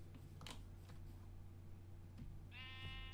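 A black sheep in Minecraft gives a single bleat near the end, a short harmonic-rich cry over a steady low game hum and faint shuffling noises.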